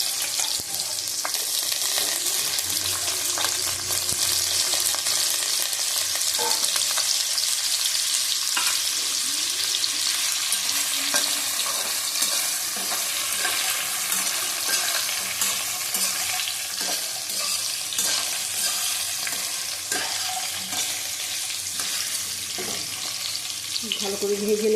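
Potatoes and vegetable stalks fry in a pan with black cumin seeds, giving a loud, steady sizzle for the whole stretch, broken by occasional scraping and stirring clicks.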